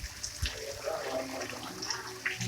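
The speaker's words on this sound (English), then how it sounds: "We're just putting some water on it to see what it's going to look like." Water runs and splashes over a pool grotto, a steady close rushing wash with occasional louder splashes, while a voice talks faintly underneath.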